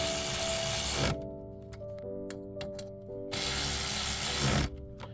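A hand ratchet clicks in quick bursts while tightening bolts on a car brake caliper, close and crisp, with short pauses between runs of pawl clicks.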